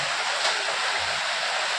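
Water pours steadily into a cooking pot, a continuous close rushing splash that holds at an even level for the whole moment, with no talking.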